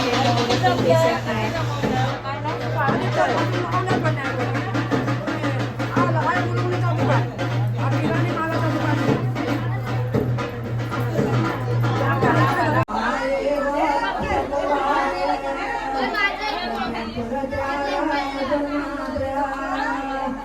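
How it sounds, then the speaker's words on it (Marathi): Dense chatter of a busy crowd fills the whole stretch, many voices overlapping into a steady, loud babble with a constant low hum beneath during the first part. "बापरे किती गर्दी"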